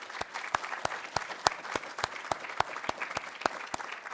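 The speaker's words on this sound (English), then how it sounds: "give yourselves a round of applause for that incredible work" Steady rhythmic clapping at an awards ceremony, with about a dozen evenly spaced sharp claps in quick succession at moderate loudness and no voices over it.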